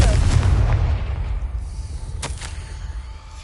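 A Confringo blasting spell fired in the Hogwarts Legacy game on PS5, a loud booming explosion with rumbling low-end blast that decays over a few seconds, followed by a couple of sharp crackles, close and dominant.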